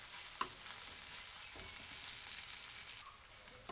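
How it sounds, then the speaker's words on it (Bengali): Ginger-garlic paste fries with onion in a pan, a soft continuous sizzle broken by a few light stirring scrapes, close but quiet, with no talking. "আদা রসুন বাটাটাকে বেশ কিছুক্ষণ আমি পেঁয়াজের সঙ্গে ভেজে নেব।"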